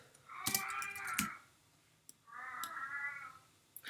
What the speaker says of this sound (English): I'm sorry if you can hear my cat.